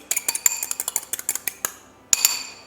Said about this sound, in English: I'm just going to use a fork to kind of break these apart and whisk them a little bit